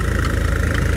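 Tractor in second gear pulling a 7-foot rotavator through a field, the engine bogging down slightly with a small RPM drop under load. Brief, steady low engine chugging with a slight vibration, loud and close.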